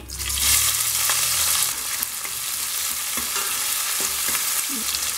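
Green chillies and curry leaves crackle and sizzle in hot tempering oil, a loud burst settling into a steady close hiss with light stirring scrapes, no voices.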